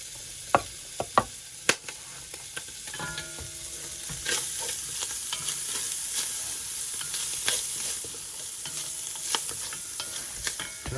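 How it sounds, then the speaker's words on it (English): Ham fries for Polish ham and cabbage chowder, sizzling and crackling in a hot pan, with scattered sharp clicks and scrapes of stirring over the steady hiss. "We're frying it now."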